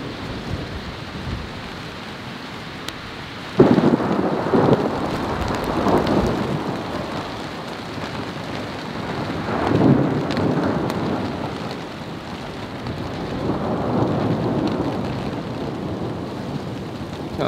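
Thunderstorm at a wilderness camp in the Canadian Rockies, with low rumbling thunder rolling in several bursts over a steady wash of wind and light rain, no voices.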